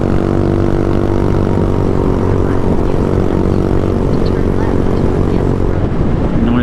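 A scooter ridden along a road, its engine a loud, continuous drone with steady rumble and wind noise close up, unbroken for the whole stretch.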